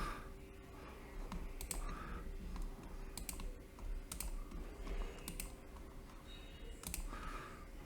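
Computer mouse clicking while scrolling through stock charts: sharp, quiet clicks at irregular intervals, roughly eight across the span, close by in a calm room with no talk.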